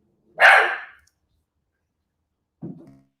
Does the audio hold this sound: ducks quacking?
no